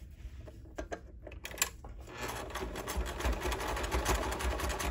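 A sewing machine stitches a tool belt, starting with a few separate clicks and short runs, then settling into a steady, close mechanical whir with rapid needle chatter, no talking.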